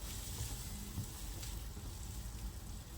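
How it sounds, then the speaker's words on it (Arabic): Onion fries in oil and ghee in a pan with a constant, dense close sizzle and faint stirring underneath. "هلا رح نزل البصل"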